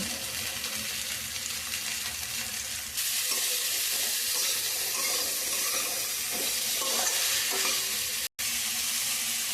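Bitter gourd and vegetables frying with green chili, turmeric and salt in a pan, a steady hiss of sizzling with scattered soft scrapes of stirring, jumping louder after three seconds and briefly cutting out near the end.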